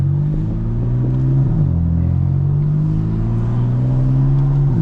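A BMW F82 M4 engine drones steadily close by while driving, its low hum dipping briefly in pitch before holding steady.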